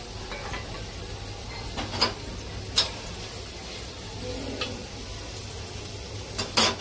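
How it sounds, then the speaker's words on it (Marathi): Onion frying with bay leaf in an oil-free pan of Healux cookware, a faint low sizzle broken by occasional clinks and taps of a utensil against the pan, quiet and close. "यात मी तेजपत्ता टाकला आहे आणि आपला कांदा आहे तो फ्राय करायला ठेवला आहे"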